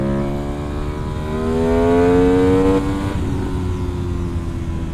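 A modified parallel-twin motorcycle with a 270-degree crank and aftermarket exhaust revs hard, its engine note climbing in pitch, holding briefly and then dropping back as the throttle closes, loud and close with no talking.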